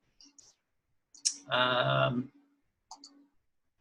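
A computer mouse clicked to confirm buttons during web browsing, a few faint sharp clicks spaced apart in a quiet room, with a brief murmur of voice in the middle.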